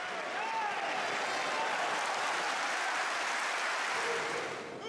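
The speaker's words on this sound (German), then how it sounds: "Es buht oder applaudiert." Bullfight audience in Portugal reacting to horse and rider, a dense, steady wash of applause and crowd noise filling the arena throughout, fairly loud and continuous before easing slightly at the end.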